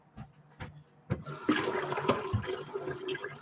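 Water runs from a kitchen faucet as scissors are washed, a rushing splashing stream that starts after a few soft knocks and continues steadily and close.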